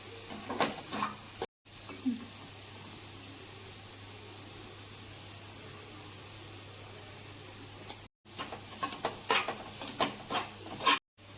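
Jaggery syrup mixture for sweet kajjikayalu is stirred in a pot on a medium flame, with soft scraping strokes and gentle bubbling hiss, a long steady simmer in the middle and busier stirring toward the end.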